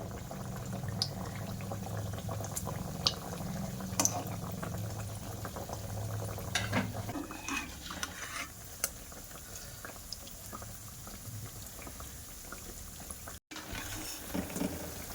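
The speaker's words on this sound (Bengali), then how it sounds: "এবার আমি বিস্কুটগুলো তেলের মধ্যে দিয়ে দেব।" Atta flour biscuits fry in hot oil in a wok, making a dense bubbling sizzle with scattered crackles. It is fuller for the first several seconds, then thins to a lighter, steady fizz.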